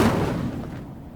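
Fiery spell burst from the Incendio charm in Hogwarts Legacy, a loud whooshing blast that starts strong and fades over about a second, with no talking.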